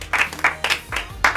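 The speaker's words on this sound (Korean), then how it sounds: "박수 한번 쳐주세요." A few short bursts of audience clapping at a BTS fan event, rising and fading in quick waves, fairly close and moderately loud, with a low hum underneath.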